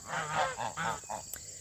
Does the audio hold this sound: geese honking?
yes